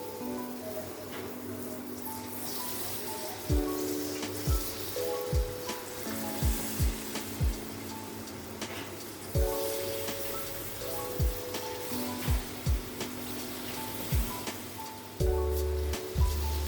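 Palm fruit fritters (taaler bora) dropped into hot oil, giving a steady bubbling sizzle with several distinct plops and splashes as each fritter goes in, close and clear, with no talking.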